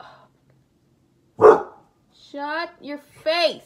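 A pet dog gives one loud, sharp bark nearby out of near silence, followed by a person talking.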